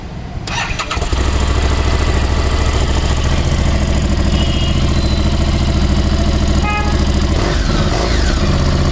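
A stock Harley-Davidson motorcycle with about 2300 km on it starts up and settles into a loud, steady idle with a deep, uneven rumble, heard close up and without talk.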